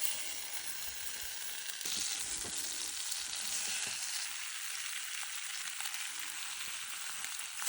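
French toast sizzling in a pan on a Camp Chef stove at a campsite, a steady close hiss of frying with occasional faint clicks and scrapes, no voices.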